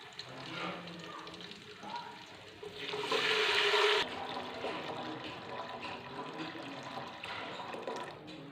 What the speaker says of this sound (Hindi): अब इसके अंदर हम बॉयल किया हुआ गुड़ वाला पानी शामिल कर देंगे।